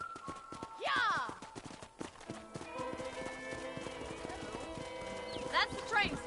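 Horse hooves clip-clop in a steady riding rhythm within the Red Dead Redemption video game, mixed with game music, a couple of whinnies and occasional talk over the ride.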